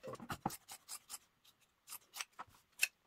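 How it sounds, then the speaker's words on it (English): Scissors snip through plaid shirt sleeves in a quiet, close series of short crisp cuts and rustles of fabric, with brief pauses between bursts. "I'm just going to cut both sleeves to size"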